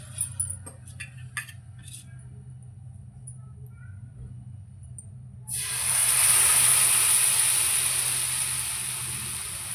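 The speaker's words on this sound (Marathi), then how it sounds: "आता मी दुसरा घालते." Rava dosa batter poured onto a hot pan breaks into a loud, steady hiss of sizzling partway through, after quieter clinks and kitchen sounds, then keeps frying evenly.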